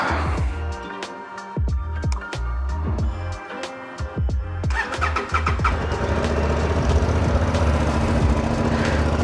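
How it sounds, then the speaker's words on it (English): A Honda Transalp 750 motorcycle engine cranks with a rapid rhythmic chugging for a few seconds, then catches and settles into a steady, rumbling idle close by. "The cranking sound is very good, too good on the Transalp."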